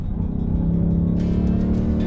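A Ford Mustang Dark Horse driven on a race track gives a loud, close, continuous engine drone that holds steady and grows rougher and brighter toward the end, with no voices over it.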